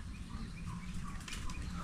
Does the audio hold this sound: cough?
no